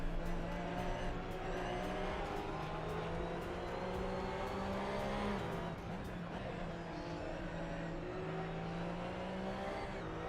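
Several Porsche Cup race cars in a racing video game, engines droning loud and steady together, with rising and falling pitch as they accelerate and pass close by, with no talk over them.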